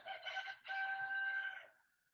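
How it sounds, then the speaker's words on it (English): A real rooster crows once, a long drawn-out cock-a-doodle-doo with a brief break near the start, heard alone and somewhat distant and soft. "I heard that rooster, and that's not a android. That's a real rooster."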